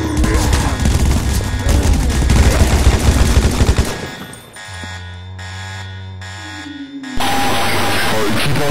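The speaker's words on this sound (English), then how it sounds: "more shooting" Gunfire in a Walking Dead-style fan film scene rattles in dense, loud bursts for several seconds, then gives way to a sustained electronic tone and music.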